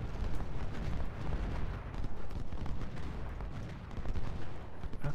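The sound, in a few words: cannon fire in video game Ultimate General Civil War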